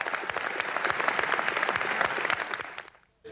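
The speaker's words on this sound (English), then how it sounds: "Australian delegates received applause" Delegates at a UN climate conference in Bali applaud Australia's delegation, a broad, even wash of clapping from a large hall that fades out near the end.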